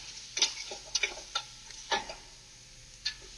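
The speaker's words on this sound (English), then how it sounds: "stir it up" A spatula stirs and scrapes vegetables and meat in a hot pan for a Bolognese, giving a handful of sharp, irregular scraping ticks over a faint steady sizzle, close and moderately quiet, with no talking.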